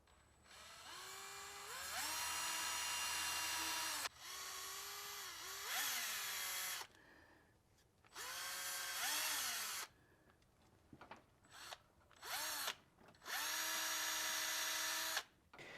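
Power drill with a long bit boring in a cramped engine bay beside a radiator hose above the throttle body, loud whining bursts of several seconds each that rise in pitch at start-up, separated by short pauses and brief blips.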